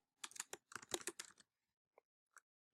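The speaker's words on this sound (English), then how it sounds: "We'll just retype it." Typing on a computer keyboard: a dense run of close, crisp keystrokes in two quick bursts, then a pause and two isolated taps, with no talking.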